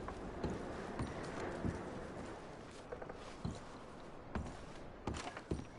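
Horses' hooves clip-clop through the outdoor camp scene in the video game Red Dead Redemption 2, with scattered irregular steps and a few sharper knocks over a steady ambient bed, fairly close.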